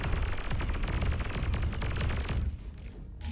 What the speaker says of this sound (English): These grunts are just shooting the wrecks rather than anything